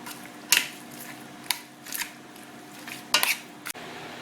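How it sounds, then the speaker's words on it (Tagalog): A spoon or utensil scrapes and knocks against a cooking pot while pork menudo with onions is stirred, a few sharp clanks spaced apart over a quiet background, close and moderately loud. "Haluin natin ng maigi."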